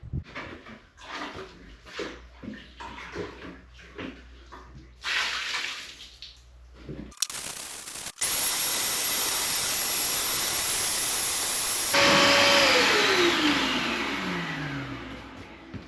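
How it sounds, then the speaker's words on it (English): Water from buckets is dumped across a concrete floor in a 200-year-old stone farmhouse, splashing in bursts, then a loud wet vacuum roars steadily to suck it up, its pitch shifting as it runs. "dumping loads of buckets of water all over it, hoovering it up"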